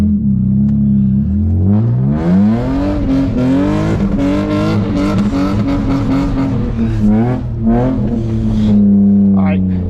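A loud BMW E36 with a welded differential drives through snow, its engine droning and rising in pitch under continuous talk from the driver in the cabin.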